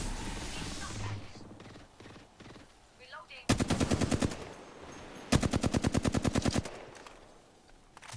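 Rapid automatic gunfire from Apex Legends in two dense bursts of evenly spaced shots, loud and sharp, with game sounds and a voice quieter between them.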